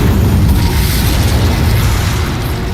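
Fiery Confringo spell blasts in Hogwarts Legacy, a dense, loud, continuous rumble of booming explosions filling the whole moment with heavy low-end bursts and no pause between them.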